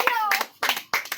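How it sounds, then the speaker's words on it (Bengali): Hands clapping in several short bursts of applause at a small prize game, close and lively, with voices mixed into the clatter. "হাততালি দাও।"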